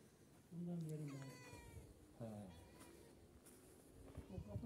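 A cat meows several times in drawn-out, wavering cries, fairly close, with a short pause between calls.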